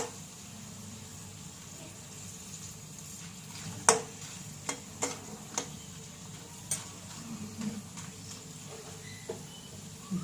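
Aloo papad, thin potato crisps, frying in hot oil with a steady soft sizzle punctuated by scattered sharp pops and crackles as they puff, faint and close.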